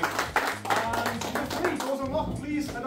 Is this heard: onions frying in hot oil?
no